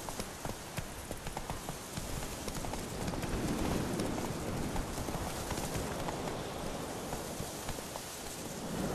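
Horse hooves gallop in The Witcher 3, a dense, continuous clatter of rapid hoofbeats that blends into a noisy, rain-like wash and holds at a steady level throughout.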